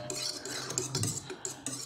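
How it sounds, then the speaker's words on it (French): Egg yolks being whisked by hand into beaten whites in a bowl for ladyfinger biscuits, a rapid rhythmic metallic clinking of the whisk against the bowl. "Je vais le faire là au fouet, à la main."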